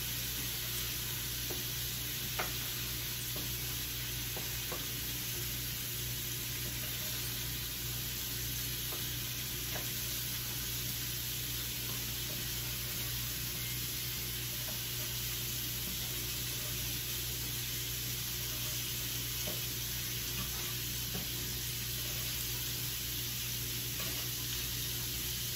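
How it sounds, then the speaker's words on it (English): Mini burger patties sear in a pan, a steady, even frying sizzle that runs unbroken at moderate level with faint pops scattered throughout. "I'm gonna let those keep searing up"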